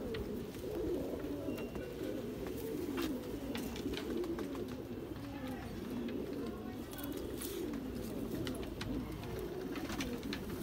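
A flock of rare pigeons coos continuously in soft, overlapping low warbles, close and steady throughout, with scattered clicks and faint background voices.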